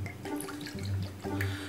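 Liquor pours into a glass in a short, faint burst of trickling and dripping, close by with no talk over it.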